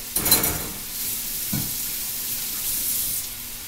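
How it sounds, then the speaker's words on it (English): Chopped meat for a bacon cheeseburger pizza sizzles steadily in a pan over low heat, with a couple of louder scraping stirs as it is spread out, close and continuous with no talking. "I'm going to throw the chopped meat in it."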